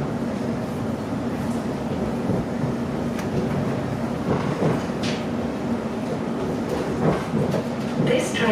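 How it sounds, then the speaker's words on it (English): A passenger train runs along the Eastern Counties line, giving a loud, continuous rumble with rhythmic clatter and periodic thumps as it travels, and a recorded announcement voice is audible over the noise. "This train will not stop at Stratford."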